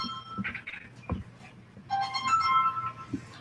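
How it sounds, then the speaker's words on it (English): A phone ringing with an incoming call during a live talk-show broadcast, its electronic tones sounding in short bursts and then in a longer, louder run near the end, with faint background sounds. "we're getting a phone call here, but we'll wait just a minute"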